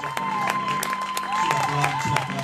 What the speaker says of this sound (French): Tu peux acclamer le Seigneur